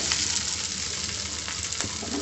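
Fried pointed gourd (potol) being sautéed with spices in a pan, with a steady close sizzle and light stirring scrapes throughout.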